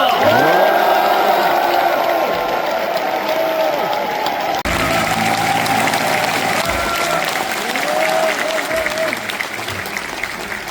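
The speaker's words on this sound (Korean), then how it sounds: "열렬한 환호와 박수를 부탁드립니다" A large crowd at a South Jeolla provincial state affairs briefing with Prime Minister Kim Min-seok cheers and applauds loudly and continuously, whoops rising above dense clapping, with a voice over the crowd in places.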